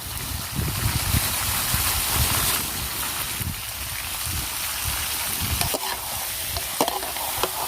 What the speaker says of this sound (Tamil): இந்த கறியை அப்படியே போட்டு கிண்டுறோம்.